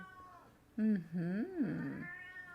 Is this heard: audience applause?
no